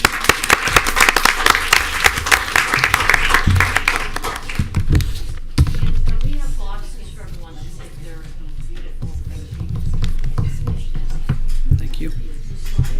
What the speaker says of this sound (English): huge thank you and a round of applause.